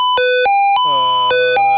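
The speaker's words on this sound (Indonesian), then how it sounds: "maka alarm akan menyala" Electronic alarm from a microcontroller-based kitchen gas leak detector, a loud, close two-tone beeping that alternates pitch in short repeated pulses with no voices.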